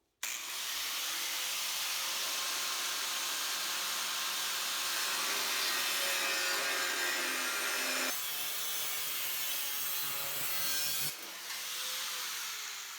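Fender cut-outs being trimmed on a Honda Domani front end, a loud continuous rasping cut that runs close and steady for the whole stretch, with brief shifts in pitch and no talk.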